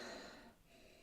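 A person takes a quick, deep sniff over a glass of whisky finished in an IPA cask, a short, close, soft breathy inhale that fades within a second.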